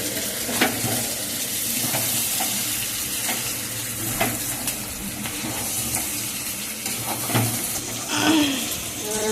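Potatoes and desi chicken meat frying in a pan, with a steady loud sizzle and hiss punctuated by occasional scraping stirs, close by.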